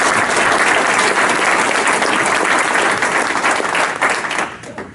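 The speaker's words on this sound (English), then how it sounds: "Let's give her a round of applause." An audience bursts into dense, loud applause that holds steadily for about four seconds before thinning out and fading at the end.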